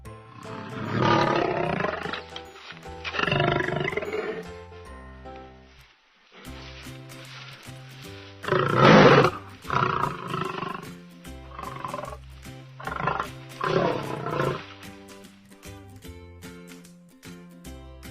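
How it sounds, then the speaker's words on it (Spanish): A lion gives a series of deep, rumbling roars and grunts, loud and close, repeated in bursts over a long stretch. "León. El león ruge."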